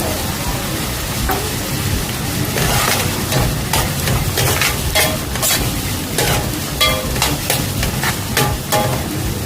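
Onions sauté with slit green chillies in a pan, a steady sizzle broken by repeated scraping strokes of a spatula that grow more frequent toward the end.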